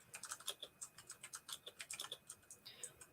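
Fast clicky typing on a computer keyboard, a quick irregular run of crisp keystrokes, close and fairly quiet, with no talk over it.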